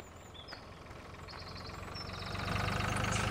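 A tractor engine idles with a low, steady rumble in the Farming Simulator 2013 video game, growing gradually louder toward the end, with faint higher whines over it.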